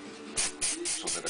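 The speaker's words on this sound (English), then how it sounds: "First thing I'm going to do is spray some Ease Release 200 as a mold release agent" Ease Release 200 mold release agent sprayed from an aerosol can onto a two-part mold, several short close hissing bursts in quick succession with talk alongside.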